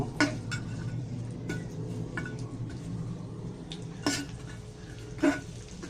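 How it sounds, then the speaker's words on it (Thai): Garlic frying in a pan, with a low steady sizzle underneath and a few sharp clinks of a utensil against the pan, close and fairly quiet, no talking. "ใส่กระเทียม ไปเจียวให้หอม"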